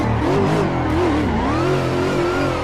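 Drifting car in Assetto Corsa on the Grange circuit, engine loud and close as revs rise and dip in a wavering rhythm while braking and throttle alternate, a steady tyre hiss underneath.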